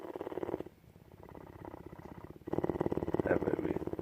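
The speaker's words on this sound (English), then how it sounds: "Kitten." A kitten purrs close up, a steady rumbling rhythm that continues through the clip. A person speaks over parts of it.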